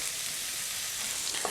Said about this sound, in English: now let's add the onions and mix them in